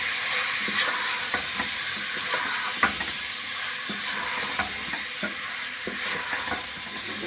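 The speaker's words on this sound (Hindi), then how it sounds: "अब थोड़ा सा हम मसालों को फ्राई करेंगे।" Spices with ginger-garlic paste and Kashmiri chilli frying in a pan for mutton boti masala, a steady close sizzle with intermittent spoon scrapes and stirring clicks throughout, no talking.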